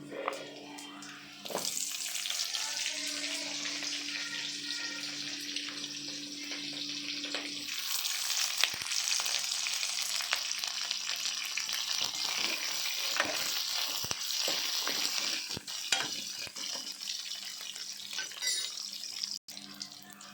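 Garlic frying in oil in a home kitchen, with a soft, steady sizzle and hiss that swells after a couple of seconds and runs on, along with scattered clinks and stirring noises at moderate volume.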